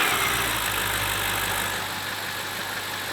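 A BMW V8 car engine idling after a troublesome restart, a steady low rumble with a constant drone and a slight drop in level partway through, heard alone without talk.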